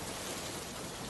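Rain falls steadily in a cartoon scene, a soft, dense hiss of drops heard alone for a brief moment.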